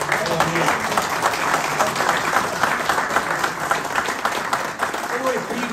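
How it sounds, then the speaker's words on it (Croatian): An audience at a talk on Bosnian martyrs and veterans gives a long, sustained round of applause, dense and continuous clapping filling the hall without a break. "čitav jedan veliki aplauz za naše Hazre."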